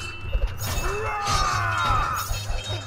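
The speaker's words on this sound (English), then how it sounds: "Stop smashing your shield!" A paladin in the tower-defense video game Kingdom Rush smashes his shield. A bright, glassy shattering crash rings out and fades amid the low rumble of in-game battle.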